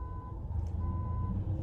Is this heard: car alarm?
yes